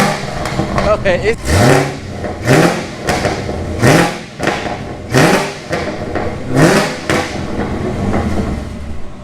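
Camaro ZL1 V8 with catless headers revving hard in a series of about six loud, close bursts, each rising and cutting off with a crackling fall, while a voice briefly speaks at the start.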